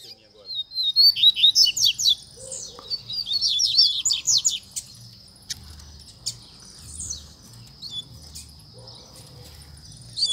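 Coleiro pardo seedeater bird singing nearby in rapid bursts of bright, trilled chirps, strongest in the first few seconds and then thinning to scattered short calls, over a faint low rumble and background insect hum.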